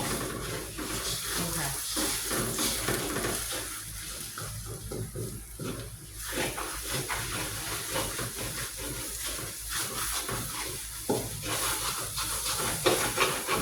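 Beaten egg poured into a pan and stirred as it fries for stir-fried mee sua, a steady loud sizzle and hiss with scraping stirring sounds throughout.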